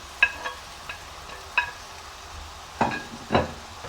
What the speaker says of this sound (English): you start adding the veggies, the cabbage